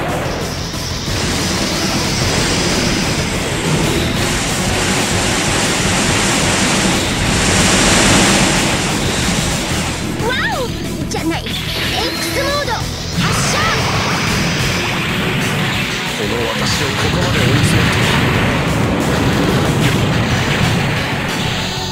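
A Howling Launcher weapon fires in the Super Robot Wars OG mecha video game: loud, sustained blasting and crashing bursts with sweeping whooshes, dense and continuous over background music for about twenty seconds.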